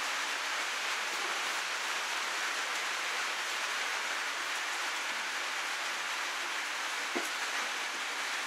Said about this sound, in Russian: Мелкий дождь идет, идет и идет.